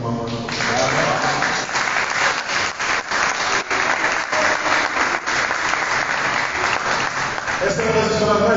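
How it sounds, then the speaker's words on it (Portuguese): Congregation applauding during a church service, a loud sustained burst of clapping from many hands that fills the space, with a voice speaking briefly at the start and end. "Dê um aplauso ao Senhor aí"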